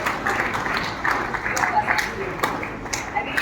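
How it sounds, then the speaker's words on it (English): Applause from an audience at an unveiling event in Dehradun, a steady wash of hand clapping spread across the room under continuous murmur, moderately loud and sustained throughout. "we need a huge round of applause for the unveiling"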